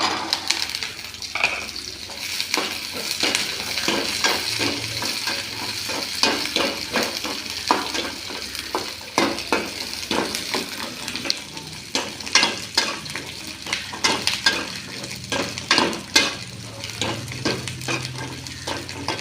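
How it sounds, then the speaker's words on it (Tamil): Garlic sautés in oil in a pan for a South Indian chutney, a steady close sizzle broken by repeated scraping stirs across the metal throughout, with no talking. "இந்த பூண்டு ரொம்ப நேரம் எண்ணெயில் வதங்குச்சுன்னா டேஸ்ட் இருக்க மாட்டேங்குது"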